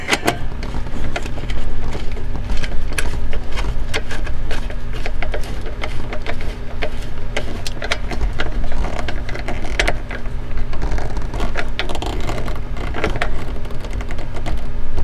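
Screws being tightened on the metal dashboard bracket of a 1997–2003 Pontiac Grand Prix, a loud, close, rapid whirring and clicking of a driver running almost continuously with brief uneven pauses, no talking.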